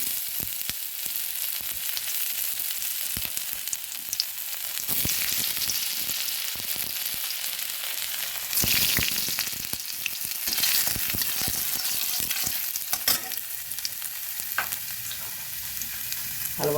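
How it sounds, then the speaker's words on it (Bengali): Chopped ginger and cumin sizzle and crackle steadily in hot oil, with repeated scraping and clinking as a utensil stirs the pan. "একটু নেড়ে দিচ্ছি দিয়ে দিচ্ছি আদা কুচি"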